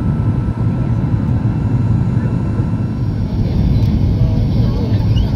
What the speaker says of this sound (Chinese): 马上要降落在帝窝堡机场。